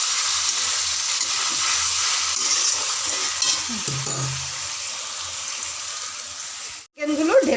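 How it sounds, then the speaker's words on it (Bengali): Chicken pieces tip into a hot frying pan already holding spring onion greens, capsicum and a little sugar, setting off a steady close sizzle with a brief scrape and a sharp burst of crackle near the end. "চিকেনগুলো ঢেলে দিচ্ছি।"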